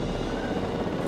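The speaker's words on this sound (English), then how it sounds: "We have a helicopter standing by," A helicopter in Jurassic World Evolution 2 gives a brief, steady whirring drone of rotor and engine noise, continuous and fairly loud with no talking.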